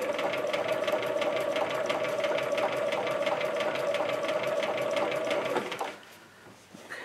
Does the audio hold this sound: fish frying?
no